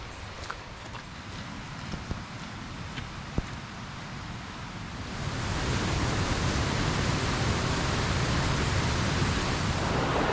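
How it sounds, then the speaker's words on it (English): Scandale Beck flows at the bottom of a valley as a broad, steady rush of water. It starts fainter under footsteps, then swells louder and fuller partway through, with no talking. "I called the Scandale Beck a little stream. Actually, I think it's a bit bigger than that. I can hear it just down there at the bottom of the valley."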